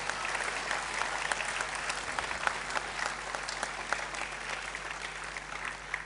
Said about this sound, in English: May I request you to please give a round of applause.